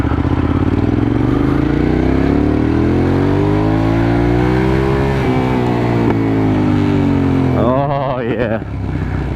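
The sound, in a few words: Hyosung GT650R motorcycle engine riding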